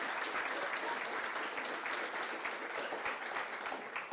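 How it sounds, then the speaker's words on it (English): An audience at an Edmond, Oklahoma mayoral runoff debate claps steadily, a dense continuous patter of many hands at moderate distance lasting the whole few seconds. "Let's give them a round of applause."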